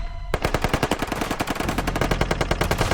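Rapid automatic gunfire from defenders inside a fortress during an assault on a breached wall, a loud, close, sustained burst of evenly spaced shots that starts after a short quiet lead-in and runs to the end.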